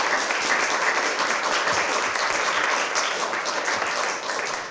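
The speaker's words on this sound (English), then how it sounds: "Can we get a big round of applause?" An audience applauding at the close of a symposium panel, loud, dense clapping that holds steady for several seconds and tapers slightly at the end.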